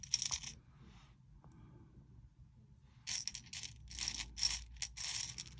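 Small beads clink and rattle against each other while being sorted by hand for earrings, quiet bursts of bright tapping, a short flurry at the start and then repeated clusters after a near-silent pause.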